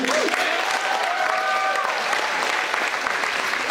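Audience applause for an assistant principal at a high school freshman orientation, dense and steady clapping from a crowd with faint voices and a brief whoop or call mixed in.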